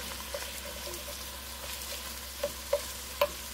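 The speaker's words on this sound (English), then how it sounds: "I'm going to squeeze in about this 1 tablespoon, 2 tablespoons of tomato paste." Tomato paste cooks with vegetables in a pan ahead of braised beef short ribs, giving a soft, steady sizzle with a few light stirring knocks near the end.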